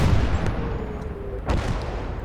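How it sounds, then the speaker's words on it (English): Artillery bombardment in the WWII game Gates of Hell lands as a couple of deep, rumbling booms over a low, continuous battlefield roar. One sharper blast stands out near the middle of the short stretch. "we have just resorted to using artillery now"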